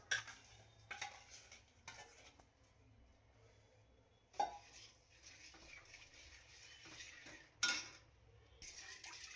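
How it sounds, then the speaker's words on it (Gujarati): Sweet sugar syrup stirred in a pan with a metal spoon, giving intermittent scraping and clinking strokes with brief louder knocks against the pan, no voices. "પછી આમ હલાવતું રહેવાનું બેસી ન જવું જોઈએ"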